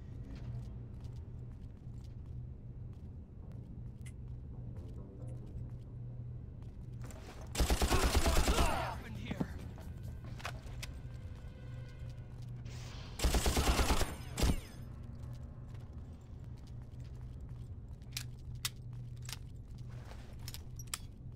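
Machine gun fire in Far Cry 6 erupts in two loud, dense bursts of rapid shots about a second long each, standing out over a low, steady game background with scattered faint clicks.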